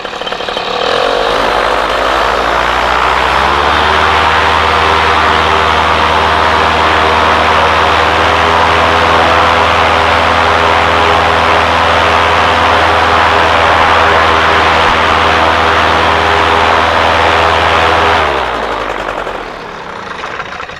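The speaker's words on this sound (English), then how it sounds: "Okay, the motor's running good." A powered paraglider trike motor cranks over and catches, then holds a loud, steady idle through a long warm-up before cutting out near the end; no voices are heard.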